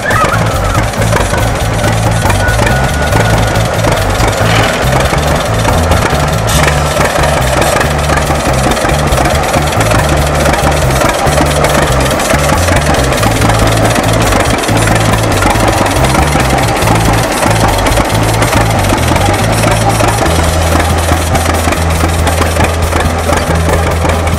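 An old two-cylinder John Deere tractor runs at a country fall fair, its low, steady putter loud and continuous, with a brief louder stretch near the end.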